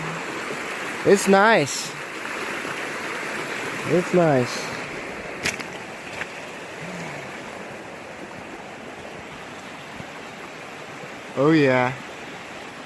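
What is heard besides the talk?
flowing river, East Fork San Gabriel River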